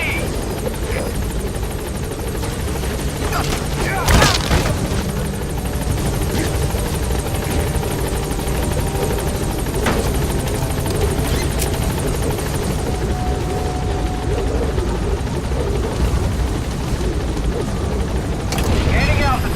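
The Pequod helicopter in Metal Gear Solid V: The Phantom Pain gives a loud, continuous rotor thrum close by, with occasional sharp thumps, while voices talk over it.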